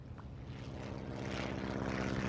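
Propeller airplane in the SimCity video game droning steadily overhead, a continuous rumbling engine hum that swells slightly louder, with no talk.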